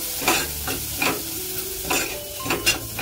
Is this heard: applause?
no